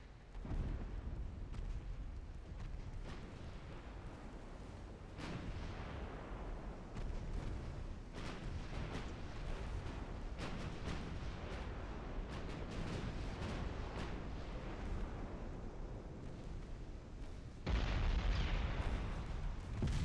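Heavy 12-inch naval guns fire in a battleship-era sea battle at Jutland in Ultimate Admiral: Dreadnoughts, with repeated booming salvos and bursts crowding over each other in a sustained, rumbling barrage.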